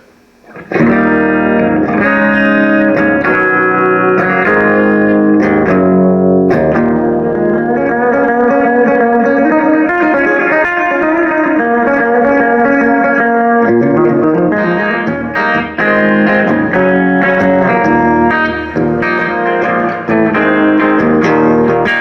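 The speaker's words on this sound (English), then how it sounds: "I'll go through a couple of the different reverb sounds for you." Electric guitar chords ring out through a Crate FXT120 amplifier with heavy reverb, the notes sustaining and washing together in a spacious, echoing tail.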